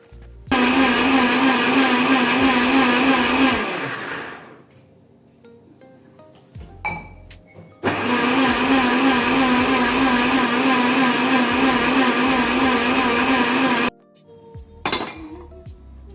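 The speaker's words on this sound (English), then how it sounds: "By adding a small amount of water and grinding slowly, the masala becomes nice and creamy" A mixer grinder whirring loudly as it grinds masala paste with water for okra curry, running in two long steady bursts separated by pauses with clinks and knocks of the jar.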